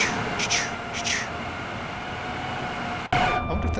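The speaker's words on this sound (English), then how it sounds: "Oh look, we got some Eurovision train." A passing train in Train Sim World 5 on the Euston to Milton Keynes line, heard as a continuous rail rumble with two squealing, screeching bursts near the start and an abrupt clunk toward the end.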